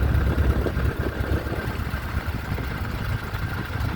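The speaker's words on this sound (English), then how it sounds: "We're gonna keep the engine running warm, taxi around, getting a feel for it." An EAA biplane's engine idles steadily as the aircraft taxis, a close, continuous low rumble with a faint steady whine above it and no voices.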